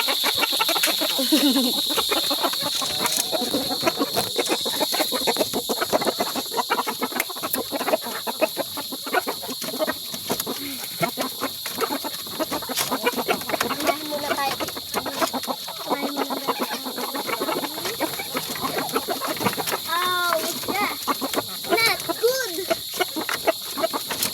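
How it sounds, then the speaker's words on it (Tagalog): Many chickens cluck and chatter continuously in a dense, busy chorus, with a steady high insect-like hiss beneath and a faint voice now and then. "Daming manok!"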